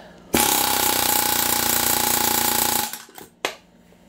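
A Harbor Freight Chief Pro air hammer drives a spike tool into a piece of aluminum held underfoot, letting out a loud, rapid, buzzing hammer burst for about two and a half seconds, then a brief second blip after it stops.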